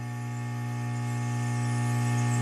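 The vacuum pump of an Aoyue Int701A++ desoldering station runs nearby with a steady electrical hum and droning tone. It grows slightly louder over a couple of seconds, and no voices are heard.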